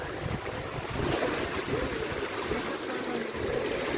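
Steady rushing sea surf washes continuously against the shore beside a temple, a broad roaring water sound with wind noise and no voices.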